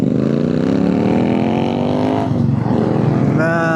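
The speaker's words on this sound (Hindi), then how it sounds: "that 650 exhaust screams so good" Royal Enfield-style 650 twin motorcycle exhaust on a mountain road, a loud steady droning engine note with rising harmonic whine near the end, close and continuous.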